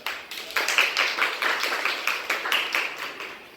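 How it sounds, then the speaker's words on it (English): Students clap for themselves in a classroom, a small scattered patter of hands over a few seconds with a loose, uneven rhythm, close by and moderately loud. "Clapping for yourself"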